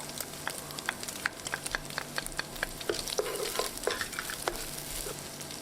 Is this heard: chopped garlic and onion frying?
yes